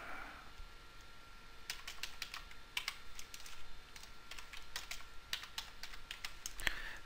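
Quiet, irregular clicking of fingers typing on a computer keyboard, bursts of keystrokes with brief pauses, no talking.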